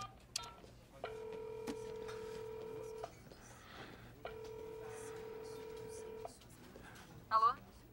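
A telephone is dialed, heard as faint, steady tones in two long sustained bursts, with soft clicks between and a brief electronic chirp near the end, under quiet background.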